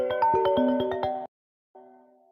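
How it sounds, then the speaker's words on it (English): A phone ringtone for an incoming call plays as a bright, melodic electronic tune with repeating notes, cuts off briefly, then resumes with a steady sustained chime. "We got another phone call"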